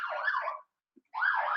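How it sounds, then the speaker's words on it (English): An emergency siren wails in two rising-and-falling bursts separated by a brief silence, heard alone without any voices. "I don't know if you can hear the sirens outside my"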